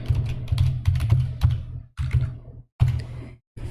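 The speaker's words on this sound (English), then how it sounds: "I can clear this text, type in my new appointment" Fingers type on a computer keyboard while entering an appointment into a student calendar app. The keys click in quick, close bursts, with short pauses between runs of typing.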